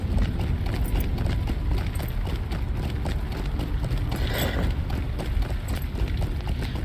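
Hooves of a regular riding horse in Lord of the Rings Online clip-clop in a steady, quick rhythm, with faint mechanical clicking mixed in, continuous and fairly close throughout.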